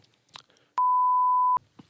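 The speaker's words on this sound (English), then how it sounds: "That's getting beeped out." A single steady electronic censor tone, loud and clean, cuts over a word for just under a second in a casual podcast chat, with faint talk on either side of it.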